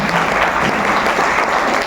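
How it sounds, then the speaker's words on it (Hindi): Dense, steady applause from a meeting audience fills the room, loud and continuous without pause. "एक बार डीएक्शन के लिए जबरदस्त ताली बजाओ"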